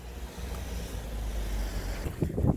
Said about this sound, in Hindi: तो हवा बड़ी ठंडी है, तेज़ हवा चल रही है